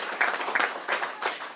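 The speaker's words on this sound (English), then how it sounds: "Let's give a round of applause to all the hard work and take a picture." Scattered clapping breaks out among a small group at a bill signing by the governor, a few bursts of hand claps over roughly a second and a half.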